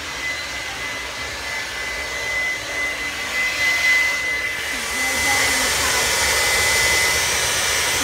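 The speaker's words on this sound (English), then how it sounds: "And my dad brought a blow dryer" A blow dryer runs in a garage beside a frozen water heater, a steady whooshing whine with a thin high tone that swells slightly louder toward the end, heard alone without speech.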